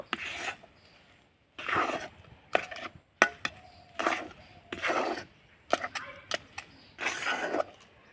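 Rice flour dough for a coconut pitha is stirred in a pan, giving repeated short bursts of scraping and thudding close by, with brief quiet gaps between strokes.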